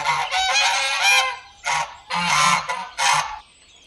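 Geese honk loudly and repeatedly in harsh, overlapping bursts, close by, with brief pauses between volleys.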